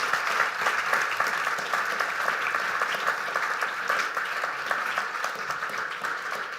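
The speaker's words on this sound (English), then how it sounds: "Rick Westhead, can we give him a round of applause?" Audience at a talk giving sustained applause for a guest speaker, a dense, even roar of many hands clapping steadily at one level throughout, with no voices breaking through.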